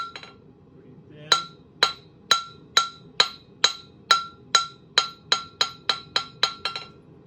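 A blacksmith hammers steel on an anvil to forge a chisel tip, a sharp ringing strike roughly every half second that speeds up toward the end, close and loud over faint background noise.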